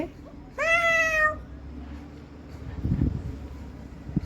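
A single drawn-out meow, voiced by a child imitating a cat, rises out of quiet room noise and stops after under a second, followed by faint shuffling.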